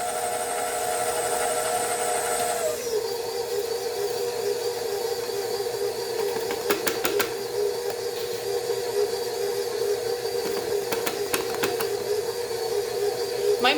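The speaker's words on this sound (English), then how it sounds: "My mixer is just on the stir setting right now." Stand mixer on its low stir setting beating buttercream, a steady close motor whir that drops in pitch early on, with intermittent scraping clicks from the beater against the bowl.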